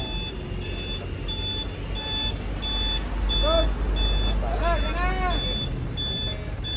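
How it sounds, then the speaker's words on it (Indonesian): Reversing beeps from a truck at a cattle trading site repeat in a steady, evenly spaced pattern over low engine rumble, while cattle low nearby and people talk in the background. "Akhirnya truk yang satu datang,"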